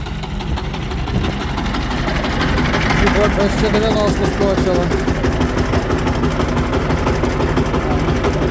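A heavy tractor diesel engine runs steadily with a rough, knocking rumble, while someone speaks briefly over it at close range.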